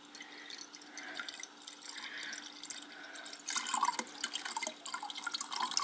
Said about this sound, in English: And we're still putting water in.